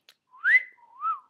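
A person imitates a flirtatious wolf whistle, two quick rising-and-falling whistled notes, close and clear against silence.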